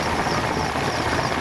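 Rescue helicopter flying over floodwater on the Manjara river in Latur district, India, a loud, steady rotor and engine drone that fills the short stretch with no talk.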